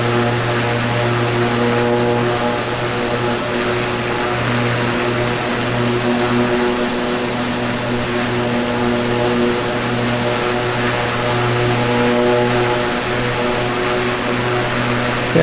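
A propeller airplane engine drones steadily and loudly from inside the cabin in flight as the throttle is brought up toward cruise speed, a constant, strongly tonal hum with no talk over it.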